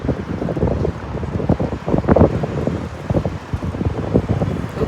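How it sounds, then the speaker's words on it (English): Strong gusty wind buffets the microphone outdoors on the west side of Colorado Springs, a rough, surging rumble with repeated bursts that rise and fall, loud and close, with no voices. "It is so windy."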